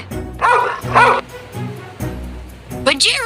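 A dog gives several short yipping barks in quick succession, close and fairly loud, amid a sequence of animal sounds for children.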